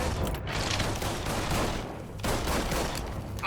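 Gunfire in the game Mafia 3 Definitive Edition, a fusillade of overlapping shots in sustained bursts with a short lull mid-way, loud and fairly close.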